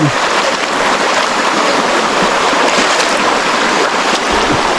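River water flows steadily beside a bamboo hut in the countryside, a continuous broadband rush with no break and no talking.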